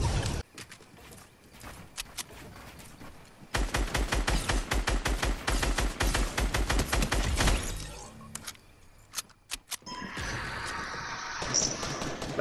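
Gunfire in Fortnite, including an alien gun and a gold SCAR, comes as rapid bursts of sharp shots. A dense volley is followed by scattered single cracks and then a noisy explosion-like wash near the end.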